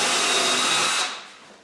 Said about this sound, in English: make sure it's flat on the plywood on the bottom, and then drill a pilot hole into the side